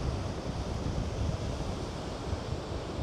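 Wind roars steadily against the microphone outdoors while a Mini 2 drone is flown, producing a dense, unbroken rushing noise with no voices.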